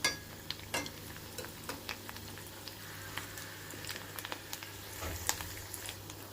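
Rice pakodas frying in hot oil over a medium-low flame: quiet continuous sizzling and bubbling, with scattered light taps and clinks from a utensil, close by and with no speech.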